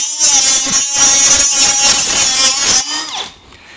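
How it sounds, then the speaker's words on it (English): A Ryobi 18V ONE+ HP compact brushless tool fitted with a carbide abrasive blade cuts through vinyl siding, a loud, continuous harsh grinding rasp that runs steadily for nearly three seconds before the blade spins down and fades out. "This first one has the carbide abrasive blade, and we'll use this to cut vinyl siding."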